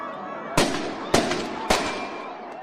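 Three sharp fireworks bangs, evenly spaced about half a second apart, each with a short crackling tail, set off toward a line of police in riot helmets at a Seattle street protest against immigration raids.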